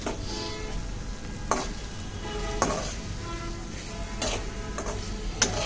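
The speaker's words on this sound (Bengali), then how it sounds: "এখন ডিম দিয়ে দেবো," Eggs are stirred into frying masala in a pan for egg bhuna with bay leaf, the spice paste sizzling steadily while a spoon scrapes and taps the pan in occasional sharp clinks.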